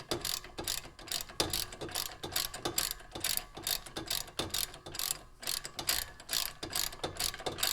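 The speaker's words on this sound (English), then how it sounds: "And then other times you just have to use your ratchet." A ratchet clicks rapidly in repeated strokes while tightening brake caliper bolts on a Jeep Renegade, a steady close-up mechanical pawl rattle with no talking.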